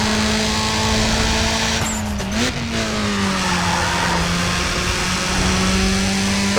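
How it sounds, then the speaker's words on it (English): Subaru WRX-8 engine in a Need for Speed ProStreet mod revving loudly, with a sharp gear shift midway, then tires squealing and skidding as the car races on, no talking. "WRX-8 engine"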